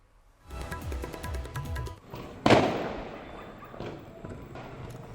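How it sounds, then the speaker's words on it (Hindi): Firecrackers go off around Jaisalmer's Sonar Fort in a celebration of a cricket victory: one sharp, loud bang followed by a spray of crackling pops and dull thuds that fade out at a distance. "सोनार दुर्ग सहित कई जगहों पर पटाखे छोड़कर जश्न मनाया गया।"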